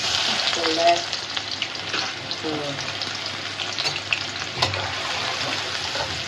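Fish fries in hot oil for a Bengali fish bhuna, a steady close sizzling hiss throughout with faint clinks of stirring over it.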